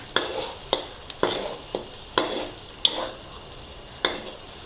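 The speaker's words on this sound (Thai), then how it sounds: "ใส่ไข่ลงไปแล้วแล้วเราก็นี่เลยกระจายไข่นะ" Eggs are stir-fried in a pan for a dish of sweet leaf greens with glass noodles and dried shrimp: a spatula scrapes and knocks in a steady rhythm over a soft, continuous sizzle.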